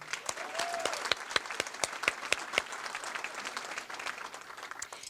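An indoor crowd gives sustained applause for honored veterans returning from an Honor Flight Rochester trip, a steady rush of many hands clapping at moderate distance that tapers off toward the end.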